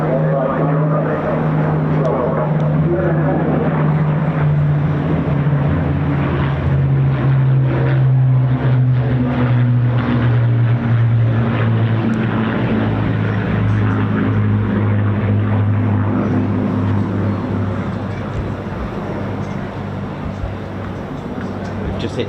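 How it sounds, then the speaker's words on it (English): Bristol Blenheim and two Spitfires fly past at an airshow, a loud sustained piston-engine drone with shifting pitch that swells and holds for the full span, with crowd noise and talk mixed in. "So we got the Bristol Blenheim and 2 Spitfires coming up."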